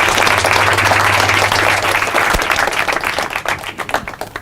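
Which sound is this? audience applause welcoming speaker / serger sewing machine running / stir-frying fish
audience applause welcoming speaker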